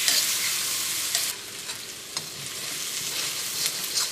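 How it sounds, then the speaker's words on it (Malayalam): Onions, garlic and green chilies sauté in a frying pan for Kozhikode dum chicken biryani, a loud, steady close sizzle with occasional soft scrapes and taps of stirring and no voices. "ഇത് നമുക്ക് നന്നായിട്ടൊന്ന് വഴറ്റിയെടുക്കാം."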